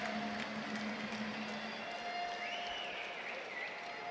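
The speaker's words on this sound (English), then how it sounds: "A big round of applause here in the" An arena crowd applauds after a Muay Thai fight between two women at a Phoenix event, a steady, distant wash of clapping and crowd noise with faint tones in the background.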